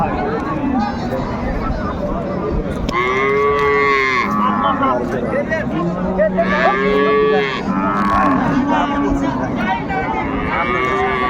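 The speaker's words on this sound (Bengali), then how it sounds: "গাভী বাছুর আমরা দেখছিলাম এখানে" Cows and calves moo repeatedly in long, low calls, several overlapping and close by, over a steady murmur of people talking at Raniganj cattle market.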